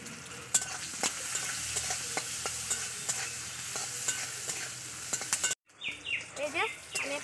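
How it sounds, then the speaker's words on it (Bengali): Small eggplant pieces with salt and turmeric fry in oil while being stirred, a steady close sizzle with repeated spatula clicks and scrapes, then a brief pause before louder, choppier frying resumes. "এই যে আমি এখানে বেগুনটা লাল করে ভেজে নিয়েছি"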